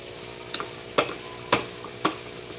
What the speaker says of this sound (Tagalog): Stir and stir and stir.